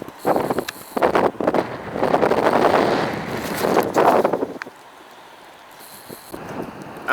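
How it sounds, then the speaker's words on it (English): Strong outdoor wind buffets the microphone in loud, rumbling gusts that roar for several seconds, then drop to a softer, steadier breeze with a few lighter puffs near the end. "Very windy, innit?"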